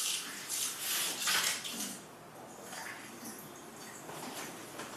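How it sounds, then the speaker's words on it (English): Lukewarm tap water runs from a faucet into a small Dixie cup, a soft splashing hiss that swells in bursts during the first two seconds, then settles into a quieter, thinner trickle. "So I have my faucet right behind me. So I'm gonna fill it up."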